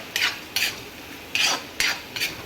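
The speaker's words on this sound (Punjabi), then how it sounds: "ਸਵੀਟ ਕੋਰਨ ਆਪਣੀ ਲੋੜ ਅਨੁਸਾਰ ਪਾਵਾਂਗੇ ਹੁਣ ਆਪਾਂ ਫੇਰ ਮਿਕਸ ਕਰ ਦੇਣਾ" Sweet corn being stirred into a kulhad pizza filling with a spoon, five short scraping swishes in an uneven rhythm, close and fairly soft with no talk.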